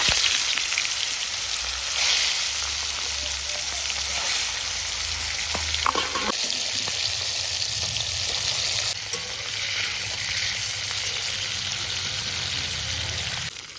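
Continuous loud sizzle of fish frying in hot oil, close and steady, with a few brief clatters partway through.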